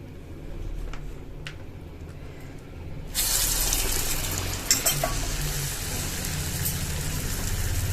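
Vada batter hits hot oil, and a loud, steady sizzle of frying surges in partway through and continues to the end, close and without talk.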